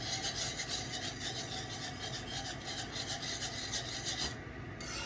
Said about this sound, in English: I'm going to whisk this all in really good.